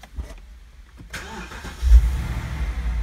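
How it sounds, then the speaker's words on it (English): A 2007 BMW 650i convertible (E64) starts up: a starter whir and quick catch, then the engine fires with a low rumbling surge and settles into a steady idle, close by, with no talking. "So what we need to do is start the car."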